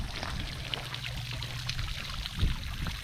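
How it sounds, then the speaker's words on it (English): Water trickles steadily from a homemade fountain into a small backyard pond treated with copper sulfate, a continuous close splashing flow with a brief louder splash near the end. "I made myself a new fountain for it"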